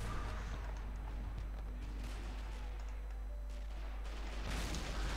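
Rumbling explosions and scattered gunfire rolls across a Dunkirk battle in Men of War Assault Squad 2, a steady distant barrage with a faint voice in the background.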